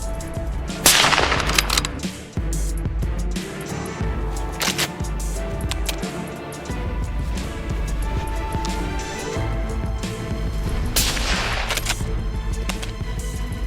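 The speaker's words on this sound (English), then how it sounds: "I raised my rifle, my heartbeat racing. Bang!" Rifle shots during a wild boar hunt in a dry field: several sharp, loud cracks stand out against continuous outdoor noise.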